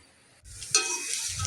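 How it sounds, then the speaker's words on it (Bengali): Potatoes frying in a pan with nigella seeds and slit green chilli, a sudden scrape of stirring followed by a bright, close sizzle and spatter, brief and without talking. "কাঁচা লঙ্কা চিড়ে কালো জিরে ফোড়ন দিয়ে কড়া কড়া করে বেশ আলু ভাজা"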